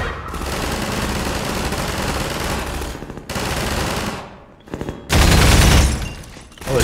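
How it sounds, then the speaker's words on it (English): Sustained rapid gunfire and bursts of automatic weapons in the video game Half-Life 2, loud and dense, with brief pauses and a heavy burst near the end. "There's a lot of gunfire."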